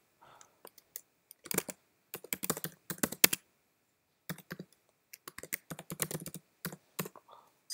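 Quiet, close keystrokes on a Mac keyboard come in quick bursts of clicks separated by short pauses, like a password being entered, with no voices.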